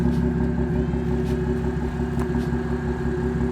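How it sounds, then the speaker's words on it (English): Supercharged 400 hp Audi S4 engine heard from inside the car while driving, a steady low rumbling drone with no voices over it. "This is what the car sounds like right now."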